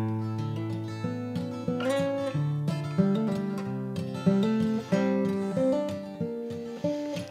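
Played chords sound close and clear, ringing with sustained notes and moving through several changes at an unhurried pace, with no voice over them.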